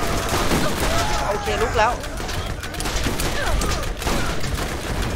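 Dense automatic gunfire in the video game Borderlands, loud rapid bursts almost nonstop across the clip, with a player talking over the shooting.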